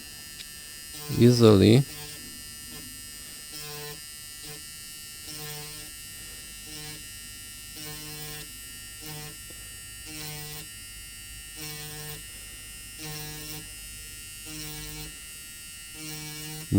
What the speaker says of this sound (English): Dremel this until we have a good pad over there.